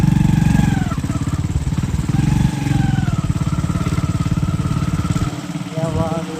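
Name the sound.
tractor engines idling in line at diesel pump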